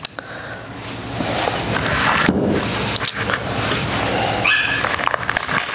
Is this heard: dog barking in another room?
yes